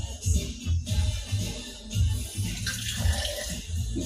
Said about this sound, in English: So I'm going to just put a little bit of water in there.